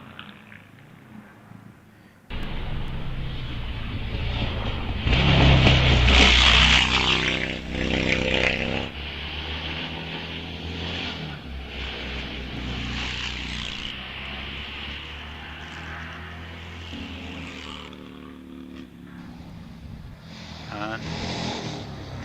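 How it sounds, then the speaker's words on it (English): Modern racing car engine at the Wiscombe Park hillclimb, a loud revving roar that sweeps up through the gears and fades, with a commentator talking over it. "as we hear one of the more modern racing cars"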